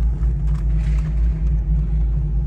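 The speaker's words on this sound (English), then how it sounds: "Raul's getting in his vet and we're gonna go for a little drive." A C5 Corvette's engine rumbles close by as the car pulls away, a deep throbbing low growl that swells and dips unevenly over a couple of seconds.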